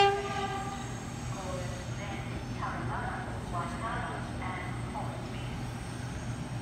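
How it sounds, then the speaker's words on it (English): A Sydney Trains V set intercity electric train runs through platform 2 at Redfern Station, a steady rumbling roll with squealing, tonal wheel and motor whines rising over it, loud and near. "And a V set about to pass through platform number 2."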